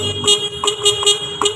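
A TCM forklift horn honks several times in short, quick toots, loud and close in a showroom.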